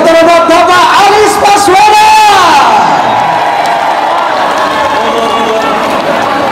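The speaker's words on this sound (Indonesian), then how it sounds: "berikan tepuk tangan sekali lagi untuk calon Presiden Republik Indonesia nomor urut 1 yang terhormat Bapak Anies" Large rally crowd cheering and shouting loudly for Indonesian presidential candidate number 1, a dense roar with whoops that fades somewhat after the opening seconds.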